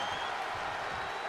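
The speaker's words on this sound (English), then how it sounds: "Electric crowd." Cheering arena crowd at a WWE 2K23 video game wrestling match staged as WrestleMania 28, a steady broad roar with applause that holds evenly through the short moment with no break.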